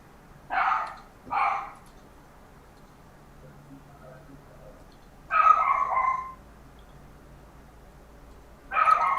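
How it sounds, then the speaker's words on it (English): A small dog barks in separate bursts: two quick yaps near the start, then a longer excited run of barking and another burst at the end. The barks are fairly close, with quiet room background between them. "Can you guys hear my dog? Yeah. Little guy. It's going nuts."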